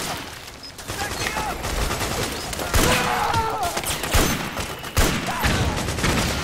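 Gunfire in the video game Metal Gear Solid 4, with a sniper rifle among the weapons: dense battle noise with repeated sharp shots and louder reports at intervals, while someone talks over it.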